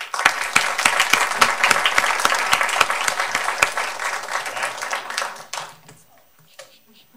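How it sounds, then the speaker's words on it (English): Audience at a city council meeting gives a round of applause: dense, lively clapping with sharp individual claps for about five seconds, then it quickly thins out and fades to near quiet. "So we give them a round of applause."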